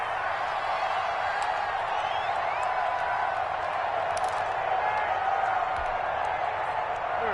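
Steady, distant stadium crowd murmur in an American football video game, a continuous roar that stays level and even throughout, with no distinct cheers standing out.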